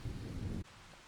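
Rain in Farming Simulator 25 rushes steadily as a dense wash for just over half a second, then cuts abruptly to a quieter ambience.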